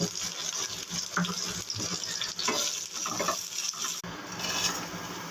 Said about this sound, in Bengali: সেমাইটা ভেজে নিচ্ছি ঘিয়ের মধ্যে